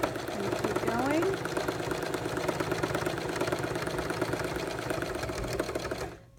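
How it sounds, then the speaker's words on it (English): A Baby Lock Pro sewing machine stitches a simple bag in straight lines, a steady rapid mechanical whir that runs on and then stops, with a voice briefly heard near the start. "I'm gonna put the needle down. Turn"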